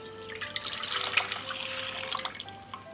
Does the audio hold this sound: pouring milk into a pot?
yes